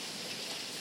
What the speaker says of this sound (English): Ooh, the hail's coming back again.